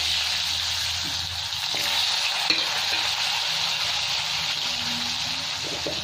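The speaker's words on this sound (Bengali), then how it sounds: "এই মাছ ভাজার তেলের মধ্যে আমি আলুগুলো ভেজে উঠিয়ে নেব।" Potatoes fry in oil already used for frying rohu fish, giving a continuous, even sizzle throughout with a few soft stirring knocks and clinks of a utensil against the pan.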